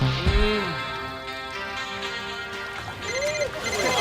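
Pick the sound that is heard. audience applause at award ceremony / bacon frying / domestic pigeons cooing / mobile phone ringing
mobile phone ringing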